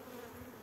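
Honey bees drone in a steady, dense buzz close to a hive during beekeeping work, with no voices over the sound.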